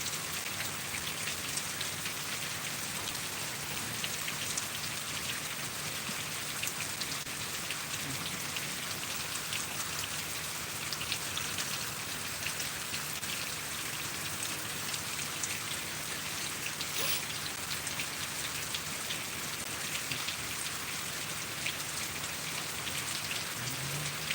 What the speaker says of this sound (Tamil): மழை ஆரம்பிச்சிருக்கோம் ஃப்ரெண்ட்ஸ் ஹெவியாக பெஞ்சிட்ருக்கு இன்னும் நிற்கவே இல்லை மழை